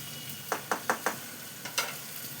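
Spice paste being stirred in a frying pan for a raw boal fish curry: a run of four quick scraping strokes, then two more after a pause, over a faint steady sizzle, close and fairly quiet.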